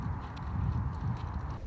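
Horse moving about in a grassy field on a narrowboat trip through a valley, a low steady shuffle of hooves with faint breathing, no clear individual hoofbeats, close and continuous for under two seconds.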